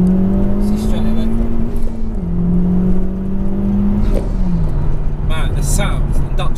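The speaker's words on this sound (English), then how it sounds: "I've never heard a factory car have an induction sound like that." A Honda Civic Type R replica engine drones steadily with its pitch stepping between gears, giving a whirring intake sound as it accelerates, close and loud, with brief voices.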